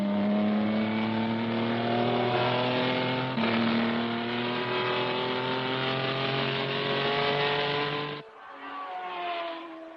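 Racing cars run wheel to wheel at high speed, a loud sustained engine roar with rising revs that cuts off abruptly near the end and is followed by a softer, more distant engine note.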